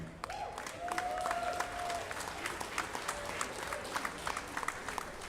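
An arena crowd at a Team Combat League quarter-final between the Boston Butchers and Atlanta Attack bursts into applause that keeps going, a dense clatter of many hands with a few sharper claps. A voice comes through briefly over it at the start.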